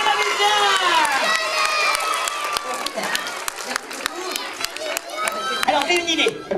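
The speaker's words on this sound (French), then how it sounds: "Alors là, on va applaudir les copains les magiciens." A crowd of children claps and cheers for the magicians at a comic magic show, with dense sharp clapping under excited shouts and high voices, loud and close throughout.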